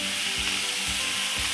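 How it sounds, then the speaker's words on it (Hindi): About 100 grams of boiled minced beef sizzles steadily in a pan, with a spatula scraping and stirring it at a regular pace, close and continuous with no talking. "इसको तकरीबन 1-2 मिनट भूनूंगी। कीमे को मैंने अच्छी तरह भून लिया है"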